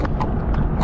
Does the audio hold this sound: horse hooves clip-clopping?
yes